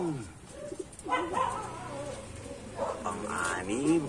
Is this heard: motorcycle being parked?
no